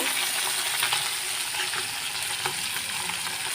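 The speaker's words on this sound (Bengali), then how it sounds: "মাছটা প্রথমে আমি সুন্দর করে ভেজে নেব" River fish frying in hot oil for a curry with bottle gourd, a steady crackling sizzle with small popping bursts throughout, close and fairly loud, with no voices.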